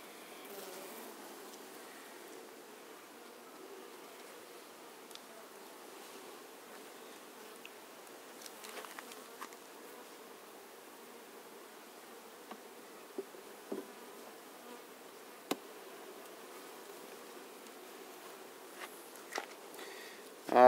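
A honeybee swarm caught in a trap hums with a low, steady buzzing from many bees, quiet and close, with occasional faint knocks and rustles from handling the hive.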